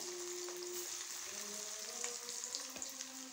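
Steady, dense sizzling of cauliflower deep-frying in hot oil, with occasional crackles and pops, close by and continuous.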